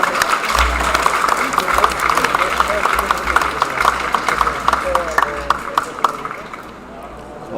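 Audience applause follows a sabre fencing bout at a tournament final, a dense, steady wash of clapping with crowd noise and low rumble throughout, tapering slightly near the end.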